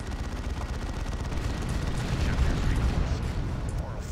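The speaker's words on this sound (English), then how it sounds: "Is that artillery enough for you?" Artillery fire in Warhammer 40k Dawn of War II: Chaos Rising rumbles as a steady, heavy barrage of booms and crackling impacts, continuous and loud throughout, with no voices over it.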